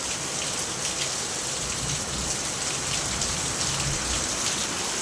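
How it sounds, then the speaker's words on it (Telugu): Heavy rain pouring steadily during an Ugadi festival day, a dense loud wash of drops drumming on surfaces nearby, continuous and unbroken with no voices. "ఓరే ఏంద్రా ఇంత పెద్ద వర్షం పడుతుంది."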